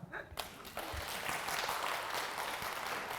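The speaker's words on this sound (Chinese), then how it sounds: "来，鼓掌！" Audience applause breaking out in a lecture hall, a dense steady clatter of many hands that starts abruptly and holds fairly loud and even throughout.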